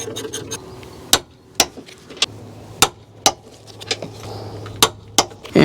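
A wrench tightens the upper strut nuts on a Honda Pilot, making sharp metallic clicks and clinks at an irregular rhythm, close and distinct against a faint low hum.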